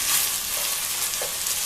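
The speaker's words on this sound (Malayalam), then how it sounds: "കുറച്ചു നേരം മീഡിയം ഫ്ലെയിമിൽ വെച്ച് ഈ അരി ഒന്ന് വറുത്തെടുക്കണം." Jeerakasala rice roasting with masala in a pan over medium flame for Thalassery egg biryani, a steady close hiss of dry sizzling with faint stirring, no talk.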